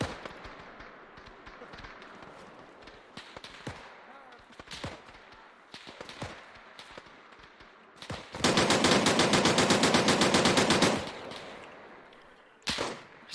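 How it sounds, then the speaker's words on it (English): Sustained automatic gunfire from a war video game set at the Battle of Raate Road, a loud rapid burst lasting a few seconds after scattered quieter shots, with a single sharp shot near the end. "Just firing over their heads."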